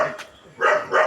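A dog gives two short, loud barks in quick succession, close by, after a brief faint yelp.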